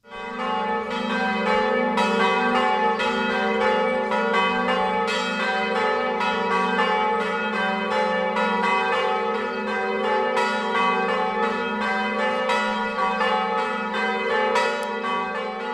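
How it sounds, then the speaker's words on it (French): Church bells peal continuously and loudly in a sustained, overlapping ring, with no voices heard. "Tel est le message que les cloches envoient de la part de Rita vers la communauté"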